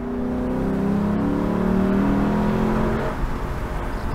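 V8 engine of a 2021 Lexus LC 500 Convertible in Sport Plus mode, revving steadily with rising pitch, then a quick drop and blip as it downshifts, heard from inside the car, close and continuous.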